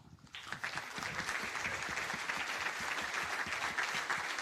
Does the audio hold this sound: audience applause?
yes